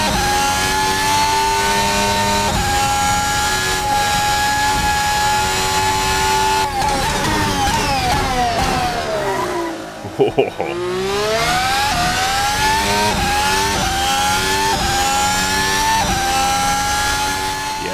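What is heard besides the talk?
fast car engine revving on Northern Ireland public roads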